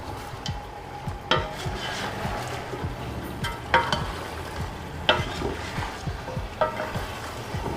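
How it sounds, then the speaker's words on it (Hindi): Spices such as Kashmiri red chilli and turmeric frying for degi-style chicken korma, a soft sizzle punctuated by several sharp scraping stirs of the spoon against the pan, close and clear. "अच्छे से मिक्स करेंगे और मसालों के साथ इसे भूनेंगे।"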